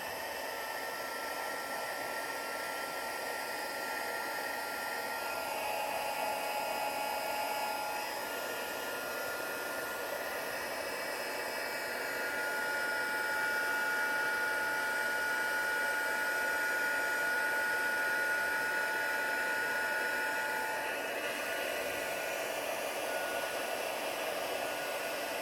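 A handheld heat tool blows a steady, loud whirring roar while it melts embossing powder on a card, running without a break and with no talk over it.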